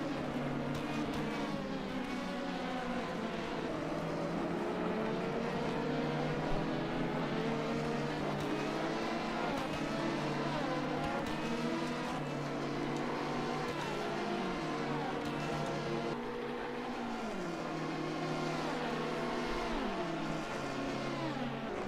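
Race cars lapping Road Atlanta in a sports car endurance video game, a steady engine drone with rising and falling pitch as cars rev and shift through corners, continuous and moderately loud with little talk.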